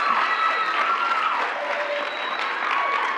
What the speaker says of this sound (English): Let's hold the applause for the end